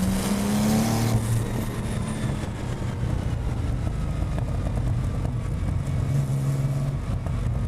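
A modified Porsche 964 Turbo is driven on the road, its engine droning steadily and loudly from inside the car with road and wind roar, the pitch easing slightly as it cruises.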